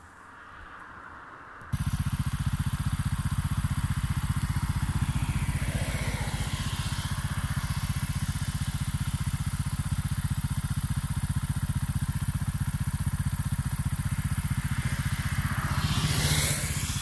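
Beta Alp 200 motorcycle ridden on a winter tour in the Bavarian mountains near Bayrischzell, its engine starting up after a quiet moment and then droning steadily and loudly close by, with wind rush throughout.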